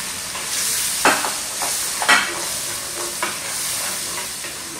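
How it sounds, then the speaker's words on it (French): Seasoned chicken and onions being stirred in a pan over a steady frying sizzle, with a few louder scraping strokes of the spoon against the pan and water added at the end, no talk. "On va bien mélanger ceci, ajouter juste un peu d'eau dessus."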